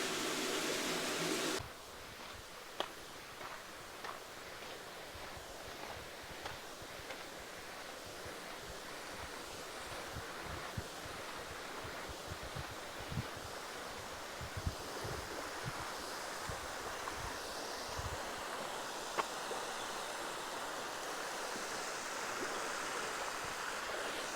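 An underground river runs through a cave, a steady broadband rush of flowing water with no talk, faint overall, with a few sharp clicks and knocks scattered over the continuous wash.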